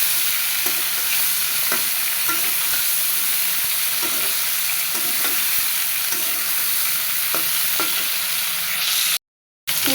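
Eggplant sizzles steadily in hot oil in a pan, with a continuous frying hiss broken by repeated scraping clinks as it is stirred, all close and clear with no voices.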